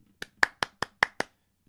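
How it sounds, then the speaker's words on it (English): Six crisp, evenly spaced hand claps ring out close and clear in an otherwise quiet room, a small solo round of applause with no talk. "Round of applause"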